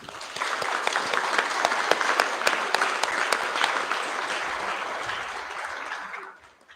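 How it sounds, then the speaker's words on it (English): Sustained audience applause at a Year 11 school prize giving assembly, dense and even for several seconds before tapering off quickly at the end. "Let's give this group a round of applause."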